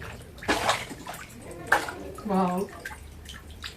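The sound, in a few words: fish splashing in water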